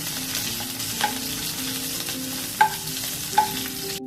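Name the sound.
green chillies frying and being stirred in a pan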